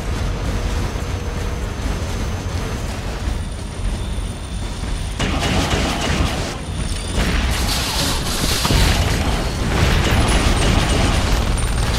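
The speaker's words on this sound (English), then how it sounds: "Watch out for his grenades." Grenade blasts in the WWI-themed tower defense shooter Iron Brigade, set at a Pacific power plant, rumble as dense, loud booms within a constant wash of battle noise and machinery, swelling at several points.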